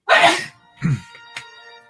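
A single man sneezes sharply up close, followed by a short voiced exhale and a faint click, in an indoor room.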